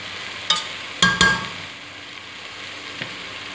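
Chicken curry being stirred with powdered spices and salt in a pan: a steady sizzle with a few sharp clinks of a spoon against the pan, loudest in a quick double strike near the start, then quieter frying, no talking.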